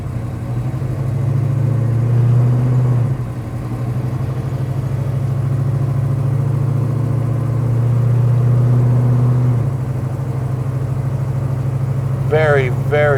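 A 1970 Chevelle cruises on the road, its engine a steady, smooth low drone that continues without pause and shifts slightly in pitch midway, with a brief chirp near the end.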